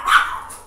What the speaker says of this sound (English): Sorry if you hear my dogs.